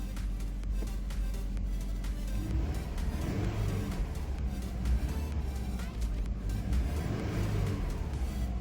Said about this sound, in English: let's give this a couple of revs, see how it sounds.